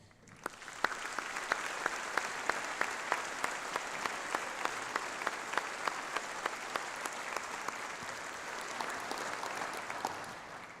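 Audience applause at a university graduation ceremony in a large hall, steady and dense across the whole stretch, many hands clapping together with a few sharper claps standing out, moderately distant and unbroken by talk.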